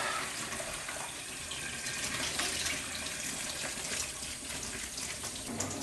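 Tap water runs steadily from a faucet, rinsing soap off a Mac SE/30 circuit board in a continuous, moderately quiet splashing stream, with no talking.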